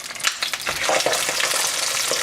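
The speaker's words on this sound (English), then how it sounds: "We're gonna get a nice sizzle on these." Steady, vigorous sizzling and spitting of pork chops frying in hot olive oil, a dense crackling hiss with small pops, close and loud throughout.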